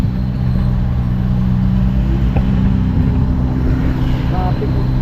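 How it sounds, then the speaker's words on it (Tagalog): Road traffic in the Philippines heard from inside a moving vehicle, a continuous loud low rumble of engines and tires with a faint passing honk. "Traffic."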